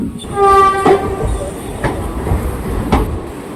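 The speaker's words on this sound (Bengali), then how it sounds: "হাওড়া আজিমগঞ্জ একশো তিরিশ সতেরো গণদেবতা এক্সপ্রেস হাওড়া স্টেশনের দশ নম্বর প্ল্যাটফর্ম থেকে ছেড়ে দেয়" The Ganadevta Express passenger train pulls out of platform 10 at Howrah station, sounding a loud sustained horn near the start, followed by rumbling wheels and clacking carriages close by.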